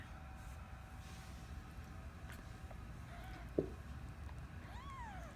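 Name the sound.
kittens meowing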